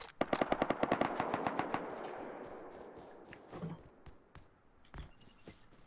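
Rapid automatic gunfire in the survival game Rust during a quick raid defence, a fast burst of sharp shots for about two seconds that fades into a decaying rumble, followed by a few scattered single shots and clanks.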